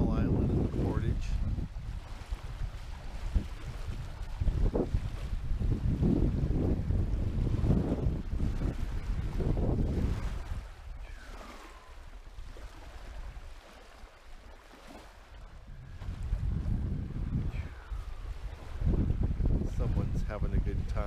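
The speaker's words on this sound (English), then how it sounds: "Classic windbound day on Vale Lake." Strong wind sweeps across a lake on a windbound day, buffeting the microphone in loud rumbling gusts with quieter lulls, and waves wash faintly beneath.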